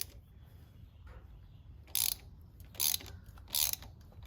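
A ratchet loosening T40 bolts on the brake caliper of a BMW R1250GS motorcycle, with three short, close, crisp clicking bursts spaced about a second apart over a quiet background.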